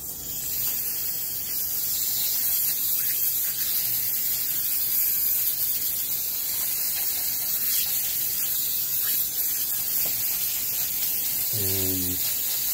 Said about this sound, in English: I'm going to rinse off the drill chuck, which is right over here.